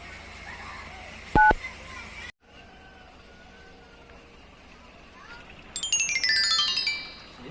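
A phone keypad gives one short, loud dialing beep as a call is placed in a Sundanese comedy short, then a low background hiss and a bright burst of warbling electronic tones toward the end.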